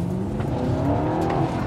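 An Audi R8 with a V8 engine accelerates in sport mode, a steady, throaty engine roar holding close and loud for a moment with no talking.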